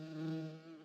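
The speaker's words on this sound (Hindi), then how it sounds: "ये साली मधुमक्खी इसने मेरी नाक पे दम कर रखा है" A honeybee buzzes steadily close by, a loud sustained drone with a strong low hum and rich overtones that swells slightly midway and then eases, heard alone without talk.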